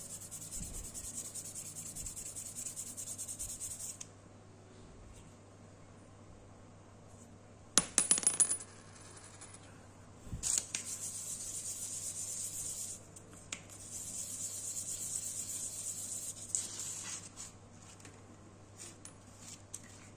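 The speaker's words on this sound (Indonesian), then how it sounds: "Di amplas tipis-tipis" Soft, steady scraping and rubbing in bursts as sandpaper smooths the rough inner gear parts of a Yamaha X-Ride motorcycle oil pump, with brief pauses and a couple of sharper clinks, close and fairly quiet over a low hum.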